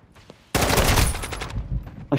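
Loud, sustained automatic gunfire from the Call of Duty Modern Warfare II video game, bursting in abruptly after a quiet moment and rattling continuously for over a second before trailing off.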